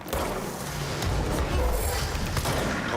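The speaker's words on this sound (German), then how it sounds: "Und jetzt schiessen sie sich gegenseitig Granaten an." Grenade explosions in a first-person shooter video game, dense rumbling booms and crackling blasts rolling continuously over three seconds, loud and busy with no clear gaps.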